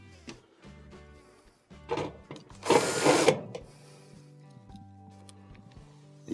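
Power driver removing 1/4-inch hex screws from a Whirlpool dryer console, with short whirring bursts and one louder, longer buzz in the middle, set among clicks, thunks and handling noises.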